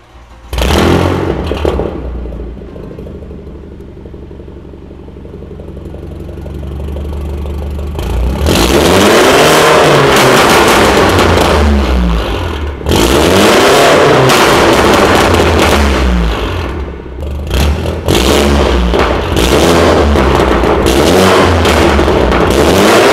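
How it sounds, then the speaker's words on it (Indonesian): A loud BMW F30 exhaust revs hard again and again, the engine roaring up and dropping back in repeated surges, very close by. "gue boleh nggak dengar suara knalpotnya?"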